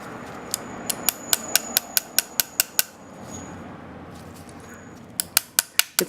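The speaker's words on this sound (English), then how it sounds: "I just had to get a little hammer to tap this thing out." A small hammer taps out a metal pin from an 1892 French Ordnance revolver in a quick series of sharp clicks, pauses, then taps again several times, close and crisp.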